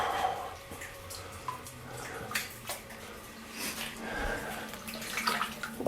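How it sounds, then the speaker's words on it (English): Hands are washed under running water at an old, run-down mine site, with splashing and trickling water and irregular bursts of rinsing over several seconds, close by. "Wash my hands off here."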